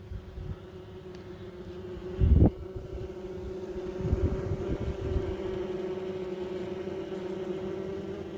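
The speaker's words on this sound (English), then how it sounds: "I think the bees are totally settled." A small, settled honey bee swarm gives a steady low buzzing drone that hums on throughout, with a brief louder rustle or bump near the start.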